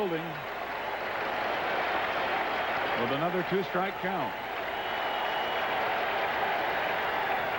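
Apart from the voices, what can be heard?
baseball stadium crowd cheering during a strike count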